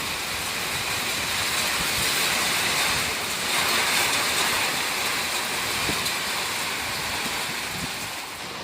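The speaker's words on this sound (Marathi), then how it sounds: "बाहेर इतका पाऊस पडतोय ना अजून सुद्धा ना चालूच आहे. आता तर वाढलाय पाऊस." Heavy rain with strong wind outdoors, a dense, steady roaring hiss that swells slightly midway and continues without pause; no voices.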